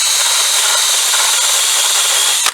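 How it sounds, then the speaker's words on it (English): Wire brush spun by a drill, smoothing the rough edges of a freshly drilled hole in a washing-machine drum for a chicken plucker; a steady, loud, hissing whir held unbroken, then cut off abruptly. "I've got this wire brush on another drill"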